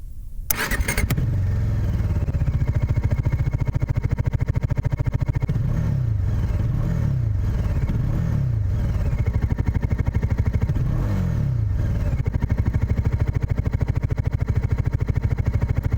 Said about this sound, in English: Let's get a sound check of the bike with double exhaust.